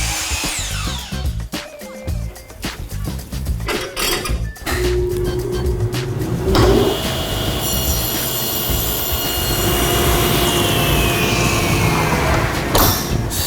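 A power saw cuts a wooden board in half for a floating shelf, starting with choppy bursts of blade noise and then settling into a loud, sustained whine with a squealing edge, near and alone.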